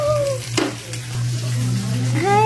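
Food sizzling and frying on a grill pan, a steady close hiss running throughout with a brief clatter midway and some voices faintly in the background.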